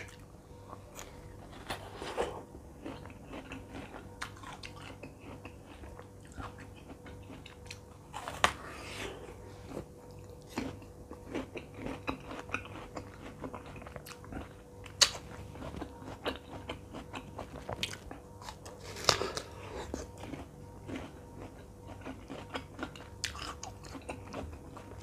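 Chocolate-coated fruit and vegetables bitten and chewed up close, with repeated moist crunches and squishy chewing noises, sharper bites standing out at intervals over a quiet room.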